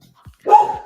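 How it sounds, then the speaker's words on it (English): Indoor pet dog giving a single sharp bark after a couple of soft short yips, close and fairly loud, alone in an otherwise quiet room. "That's my dog."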